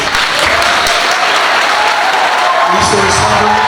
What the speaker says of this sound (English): applause for our guest lecturer